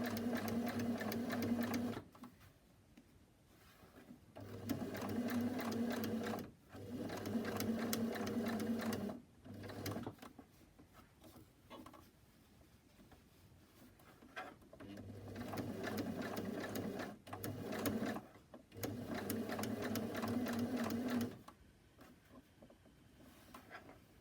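A sewing machine stitches twill for a Covid face mask in several separate bursts of rapid, even whirring with short pauses between runs, starting with a few forward and backward stitches.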